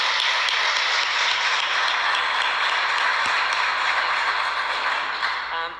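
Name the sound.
audience applauding the Secretary of Education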